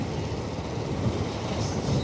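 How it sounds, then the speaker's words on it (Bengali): A train passing close by, heard as a continuous low rumble and rolling clatter that holds steady and fills the whole stretch, with no voices. "দেখো ট্রেনটা যখন যাচ্ছে"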